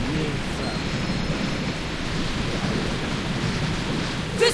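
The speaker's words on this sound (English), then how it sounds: "This storm stands between you and your crown." Thunderstorm in World of Warcraft, with loud, continuous heavy rain and rolling thunder that fill the whole stretch and no voices over them.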